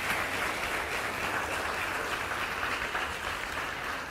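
A church congregation applauds during a sermon, a dense, even wash of many hands clapping heard at moderate distance, steady throughout with no talk over it.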